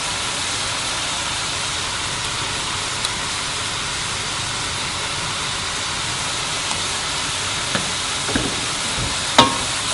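Hot red chillies frying in a pan for spaghetti bolognese sauce: a steady, dense sizzle like rain throughout, close and loud, with a few faint clinks and taps near the end and no talking.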